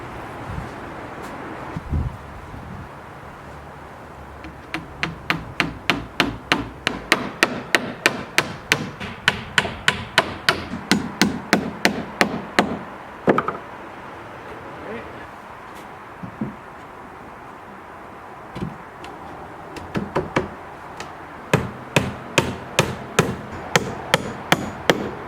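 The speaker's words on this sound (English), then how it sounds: "So we gotta nail that somewhere." Nails are hammered into a window frame during a shop build, long runs of rapid, sharp, ringing hammer strikes up close, broken by pauses, with wind noise in the background.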